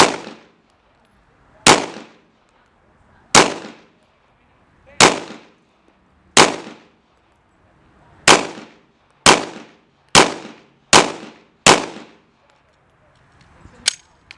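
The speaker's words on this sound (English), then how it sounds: "And then from there, of course, you'll squeeze off your round." Pistol shots ring out one at a time after a five-point draw on a shooting range, about ten sharp loud reports with pauses between, the later ones coming faster, with no talk.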